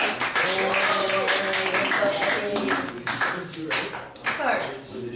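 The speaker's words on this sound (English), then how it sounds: "I think a little round of applause" A classroom of students gives a short round of applause, scattered hand claps mixing with chatter and overlapping voices at close range.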